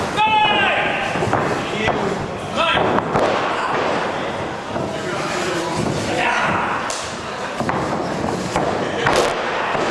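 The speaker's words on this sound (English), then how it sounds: "Kalamity now slamming Twiggy's face right in that table." A wrestler's face is slammed into a table during a full-contact intergender championship match, giving sharp thuds and slams amid constant crowd noise and a commentator talking throughout.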